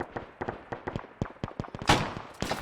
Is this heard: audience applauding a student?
no